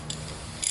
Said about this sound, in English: Clamp them down.